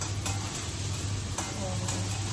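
Onion sautéing in a pan for poha, kept from browning, a steady close sizzle with occasional faint stirring ticks and a low hum beneath.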